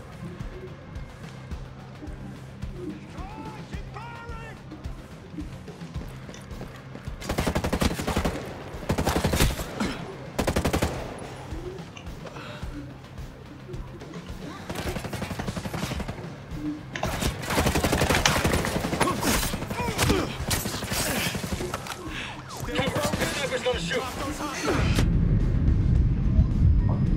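Gunfire in the Ghost Recon Breakpoint video game: after a quieter start with faint birdsong, bursts of loud, rapid automatic fire erupt repeatedly, some sustained and dense, with brief lulls between volleys and a heavy rumble at the end.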